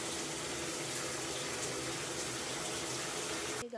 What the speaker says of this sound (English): So I'm back in the shower, as you hear it.